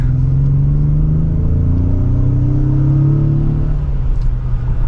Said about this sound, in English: we'll give it another acceleration